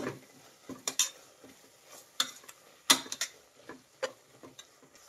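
Garam masala and chilli powder stirred into a pan for tomato rice bath, heard as soft, scattered scrapes and clinks of a spoon against metal, fairly quiet and without speech.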